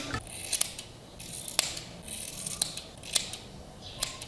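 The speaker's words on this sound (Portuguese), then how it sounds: "Vou ajeitando aqui com a tesoura." Scissors snipping hair during a home undercut trim: crisp metallic snips spaced about half a second to a second apart, close to the ear and fairly quiet, with no talking.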